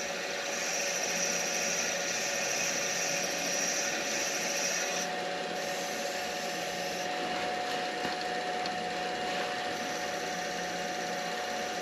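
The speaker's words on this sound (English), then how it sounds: "A little bit more sanding, and we'll start our polishing process." Steady rasping sound of sanding a wooden pen on a lathe, continuous and close, with a faint machine hum underneath.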